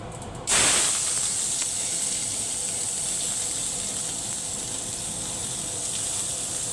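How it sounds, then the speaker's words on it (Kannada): A sudden loud hiss as onion tempering hits hot oil, settling into a steady, close sizzle that continues throughout. "ಈಗ ಒಗ್ಗರಣೆ ಹಾಕ್ಕೊಳ್ಳೋಣ"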